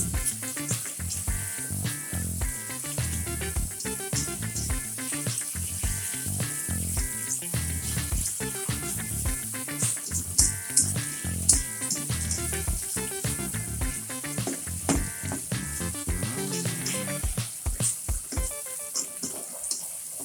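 Onions sizzle as they are sautéed in a pan for beef rendang, a steady close crackle of frying with occasional stirring clinks throughout.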